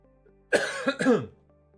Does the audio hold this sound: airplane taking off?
no